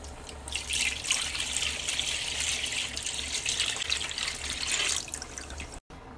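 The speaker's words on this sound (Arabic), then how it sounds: "غادي نخوي الحليب" Milk is poured steadily from bags into a cooking pot, making a continuous splashing, gurgling stream close by for about five seconds before it stops abruptly.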